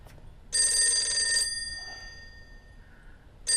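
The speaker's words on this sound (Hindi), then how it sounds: "फोन बज रहा है।" A telephone bell rings once in a bright, metallic burst, then fades, with a second ring starting right at the end.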